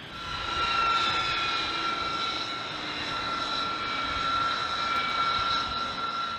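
Steady, loud jet roar of a B-2 Spirit stealth bomber on takeoff, with a sustained whine running through the broad rumble across the whole stretch and no voices.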